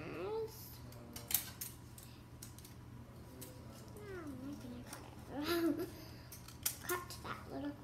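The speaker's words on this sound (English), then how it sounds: "what you're going to do with your scissors is you're going to cut off the little corners" Scissors snip the corners off paper a few times at close range, short crisp cuts scattered among faint background chatter and soft rustling.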